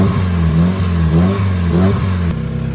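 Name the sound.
Mazda Miata engine revving, kept running by hand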